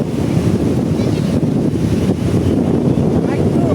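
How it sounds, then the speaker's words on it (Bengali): Sea waves washing ashore at Cox's Bazar beach, a continuous close rushing surf mixed with wind buffeting the microphone. "এই যে এই সাগরের এই ঢেউ"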